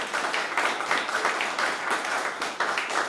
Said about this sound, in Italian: Innanzitutto volevo fare un applauso ai fonici e ai macchinisti